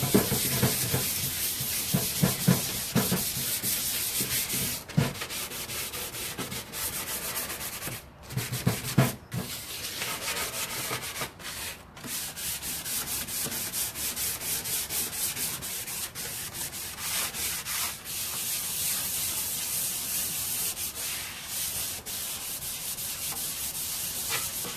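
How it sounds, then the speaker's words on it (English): 220-grit sandpaper scuffs the surface of a wooden nightstand before painting, a steady, continuous rubbing hiss with brief pauses and shifts in stroke, close and fairly loud. "So you grab your 220 grit sandpaper, and all we're going to do is scuff it up a little bit."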